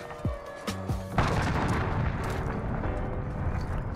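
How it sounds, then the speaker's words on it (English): An enemy cruise missile strike in the video game Modern Warfare: a few short tonal blips, then a heavy booming blast at about one second that rolls into a sustained roar of debris and rumble. "Enemy cruise missile."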